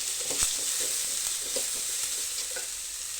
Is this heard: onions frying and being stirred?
yes